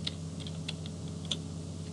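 A few soft, scattered clicks from computer keyboard keystrokes, Control C and Control V, are faint over a steady low room hum.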